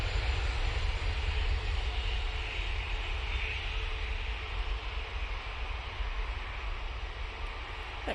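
An Airbus A320ceo jet departs, its engine roar a steady broadband rumble that stays loud for the whole stretch and eases slightly toward the end, with no voices present.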